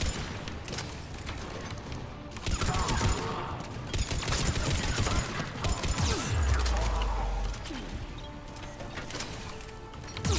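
Bursts of gunfire and mechanical clatter in Mass Effect 3 during a combat fight, with loud repeated shots, a heavy low impact partway through, and busy game sounds throughout.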